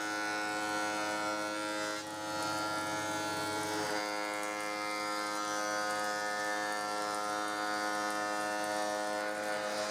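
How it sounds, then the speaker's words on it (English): A thickness planer strips old finish from salvaged oak boards with a loud, steady, high-pitched motor whine. The tone shifts under load around the second and fourth seconds as wood feeds through, and nobody speaks. "Then I ran them through the thickness planer to remove the finish and the beveled edges and get them straightened up."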